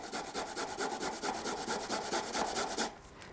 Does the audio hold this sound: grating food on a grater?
yes